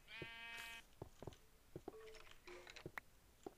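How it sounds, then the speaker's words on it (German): A Minecraft sheep gives several short, quiet bleats, plus a brief harmonic tone at the start and scattered soft game clicks and taps in between. "Hallo, Schaf."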